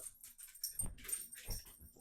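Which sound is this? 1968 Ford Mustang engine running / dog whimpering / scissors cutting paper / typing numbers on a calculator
dog whimpering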